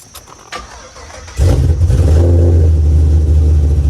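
A couple of faint clicks, then a Pontiac G8's engine cranks and catches, settling into a loud, steady idle close by.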